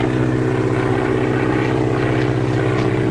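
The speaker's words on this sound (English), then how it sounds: "Spotted plane with smoke attachment." A 1930s propeller-driven plane fitted with a smoke attachment drones loudly and steadily, the engine's throbbing hum and airscrew buzz holding at constant strength throughout with no voices.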